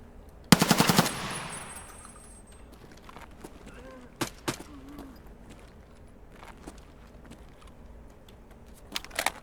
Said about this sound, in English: Shots in front of us.